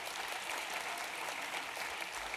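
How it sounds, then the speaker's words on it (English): An audience applauds at the Manhattan borough address, a dense, steady clapping from a large crowd heard alone for the whole stretch, fairly distant and even in loudness. "A big applause for the Manhattan Borough President's team."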